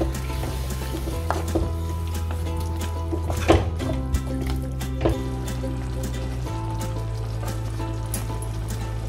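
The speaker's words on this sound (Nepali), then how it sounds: "मैले अब यसलाई थोरै पानी राखेर 2 मिनट जस्तो पकाउँछु" Greens cooking in a pan with a little added water bubble and sizzle steadily, with a few sharp clinks and stirring scrapes up close.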